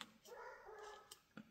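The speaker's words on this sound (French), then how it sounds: "Je sais pas pourquoi elle aboie." A dog gives short yips and whimpery barks, a couple of sharp close bursts over a steady indoor background hum.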